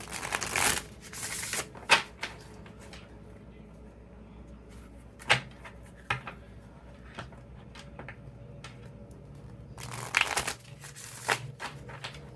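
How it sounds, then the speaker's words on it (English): A deck of tarot cards being shuffled close by, with soft riffling bursts at the start and again near the end and scattered sharp taps and knocks between them. "Okay, one more shuffle."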